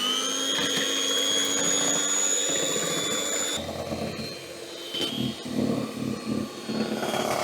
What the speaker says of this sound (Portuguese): E agora com a batedeira em velocidade baixa, vamos bater até ficar branca.